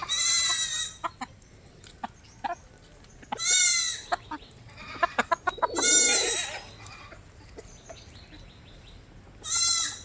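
Young goat kids grazing on a farm bleat in four separate, loud nearby calls spaced a few seconds apart, with quiet pauses and no talk between them.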